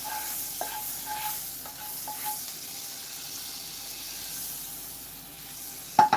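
A nettle omelette sizzles softly in a hot frying pan, a steady faint crackle with occasional scrapes and clinks of a utensil and a sharper knock at the end.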